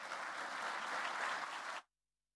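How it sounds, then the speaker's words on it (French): Audience applause at a talk event, a dense, steady wash of clapping heard at moderate distance for under two seconds before cutting off abruptly into silence. "je vous propose un tonnerre d'applaudissements pour la remercier"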